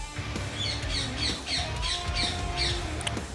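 Several parrots squawk in a rapid series of harsh, repeated calls at close range, about eight bursts evenly spaced over ongoing household background noise.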